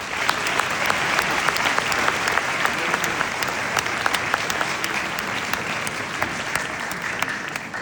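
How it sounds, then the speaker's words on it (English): A crowd of parents at a graduation gives a sustained round of applause. The clapping is full and even throughout, with no clear talk above it. "You should give yourselves a round of applause for that."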